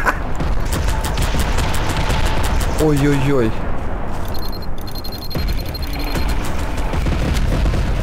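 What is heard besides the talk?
bombs exploding in Garry's Mod video game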